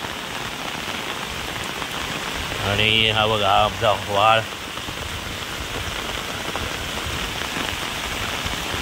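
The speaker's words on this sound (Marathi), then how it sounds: "पाऊस आज खूप आहे ना." Heavy monsoon rain pours steadily over flooded rice paddy fields during transplanting in Konkan, a dense continuous hiss throughout, with someone talking briefly in the middle.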